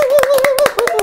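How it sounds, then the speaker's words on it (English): Sound-effect claps, a string of sharp hand-clap hits in quick uneven rhythm, close and bright, with a sustained high tone running underneath. "They've created the claps for today for us."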